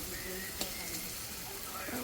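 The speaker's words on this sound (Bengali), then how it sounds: "এবার মশলার সাথে এবার গেঁড়ি আর আলুটা যেটা আগে থেকে ভাজা ছিল সেটাকে মশলার সঙ্গে দিয়ে দেওয়া হলো।" Freshwater snails and potatoes, already fried, are tipped into hot spices in a village kitchen pan. A steady close sizzle runs throughout, with a brief knock as they go in.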